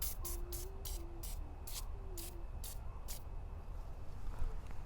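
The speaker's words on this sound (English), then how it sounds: "you could try some penetrating fluid. I'm gonna use this PV blaster" Several short hissing bursts of a PB Blaster penetrating fluid spray can, sprayed around the brakes of a Mitsubishi 3000GT VR4, evenly spaced, close to the mic over a low steady hum.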